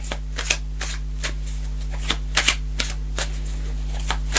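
Tarot cards being shuffled and pulled during a reading, with soft riffling flicks and papery snaps scattered irregularly over a steady low hum, close and fairly quiet.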